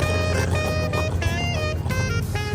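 Loud, rough pickup truck engine revving up close, with pulsing throttle surges and a steady low rumble underneath.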